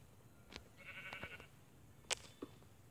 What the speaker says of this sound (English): And there's a changing color sheep.